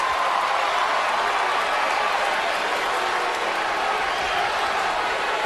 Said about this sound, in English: Those of you who are cheering me right now